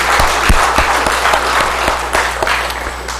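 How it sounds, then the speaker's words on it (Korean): Church congregation applauding during a Sunday worship service, steady dense clapping with some sharp individual claps close by, over a low hum, with no talking. "우리 박수로 서로 또 한번 해주시고"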